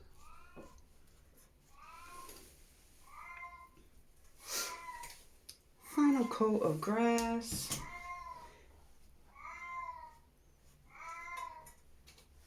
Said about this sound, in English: what that sound is in the background, that is my cat